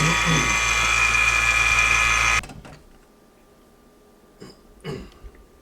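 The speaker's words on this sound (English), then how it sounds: "Sucking the air out, and we'll suck the wax into the coils." A vacuum pump draws air out of a chamber holding guitar pickup coils submerged in a paraffin and beeswax mix, a loud steady mechanical hum that cuts off abruptly, followed by quiet with a few brief clunks and shuffles.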